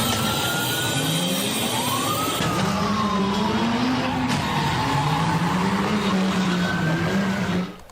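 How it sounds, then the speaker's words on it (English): Car engines rev repeatedly down an East LA street during a nighttime street takeover, their pitch rising and falling in long sweeps at a moderate distance, with a continuous noisy background and no talk. "you can hear the revving of the engines down the street"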